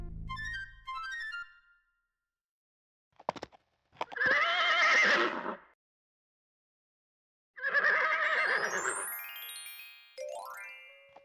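Horse neighing when summoned in King's Quest VII, two loud whinnies a few seconds apart, each with a rising then falling wavering pitch, plus short chime-like game jingles before and after.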